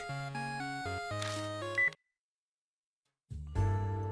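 Old-fashioned telephone tones from the video game Spirit Hunter: NG ring out as a run of clear, stepped electronic beeps, then a second of dead silence before the tones start again, loud and alone.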